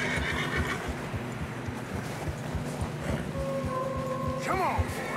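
In the video game Red Dead Redemption 2, a horse whinnies near the end over a steady low rumble and clopping hooves in fresh snow, with other noise throughout.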